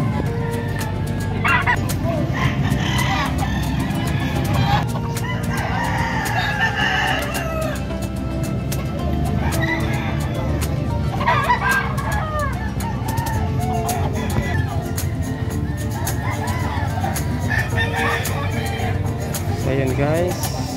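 Chickens cluck and a rooster crows repeatedly amid a busy, noisy livestock and pet market in Malasiqui, with people talking throughout.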